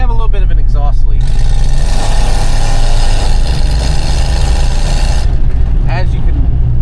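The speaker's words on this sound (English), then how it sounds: "We have a little bit of an exhaust leak." A Jeep XJ engine runs with an exhaust leak where the oxygen sensor fitting has broken off the exhaust manifold, giving a loud, close, steady roar for about four seconds, with someone talking just before and after.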